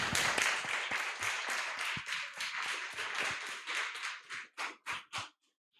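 A small audience at a youth and revolution event gives a round of applause: close, distinct claps in a brisk rhythm that thin out into a few separate slaps before stopping.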